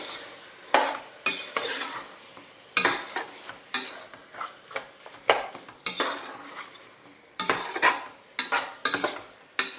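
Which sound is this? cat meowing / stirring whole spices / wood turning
stirring whole spices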